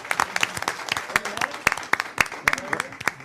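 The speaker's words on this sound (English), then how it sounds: "Round of applause for Orland for showing up tonight." Sparse, uneven clapping from a small group at a board meeting, individual sharp claps standing out in an irregular patter, with some speech mixed in.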